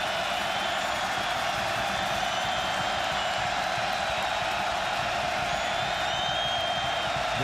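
A football stadium crowd at a college game between Oregon and California keeps up a steady, dense roar of cheering and whooping, with no break throughout.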